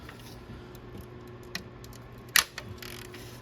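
A wrench ratchets in quick, faint clicks against a 13 mm bolt on a Dodge Caravan, with one sharper metallic clack partway through over a quiet hum; nobody talks.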